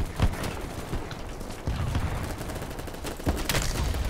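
Gunshots in the shooter game BattleBit Remastered: a few sharp, spaced-out cracks of varying loudness over a dense, noisy battlefield background, with no speech.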